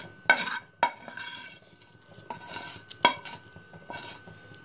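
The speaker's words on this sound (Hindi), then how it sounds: "अब सूप में ऐड करेंगे हम स्टर की हुई सब्जी ऐड करेंगे।" Spoon stirring stir-fried vegetables into a pot of vegetable soup on a gas stove, with several distinct clinks of metal against the pan among softer scraping and stirring sounds, close and moderately loud.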